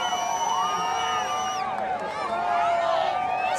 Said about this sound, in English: The crowd absolutely love that.